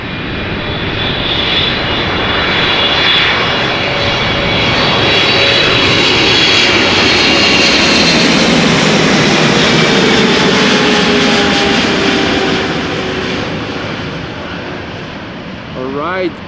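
A Boeing 777 airliner passing near Amsterdam Schiphol, a loud sustained jet engine roar that swells to a peak around the middle and slowly fades, with a speaker talking over it.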